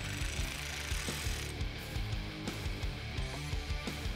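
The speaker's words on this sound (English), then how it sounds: "Now I'm using an electric ratchet." Electric ratchet driving an 8mm socket to remove a brace on a 1982-2004 Mustang 5.0L, a steady close mechanical whirring and clicking with repeated rhythmic pulses throughout.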